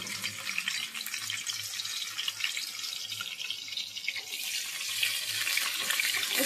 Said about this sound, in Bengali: তেলটা গরম হোক, প্রথমে ক্রাশড রসুনটা দিয়ে দিলাম